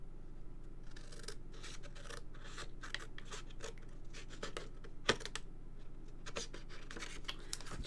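Scissors snip through paper in quick, uneven bursts of crisp cuts, close up, with one sharper snap near the end.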